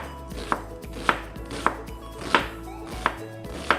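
A knife chopping pineapple into smaller chunks on a cutting board, six crisp evenly spaced cuts about every half second, close and clear over quiet kitchen background.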